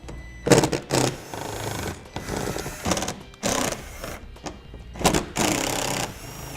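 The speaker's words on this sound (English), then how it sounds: "I'm going to be using a T15 Torx bit to take those out." Cordless driver with a T15 Torx bit backing screws out of a vehicle panel during a trailer hitch install, several short whirring bursts with pauses between them, close by and with no talking.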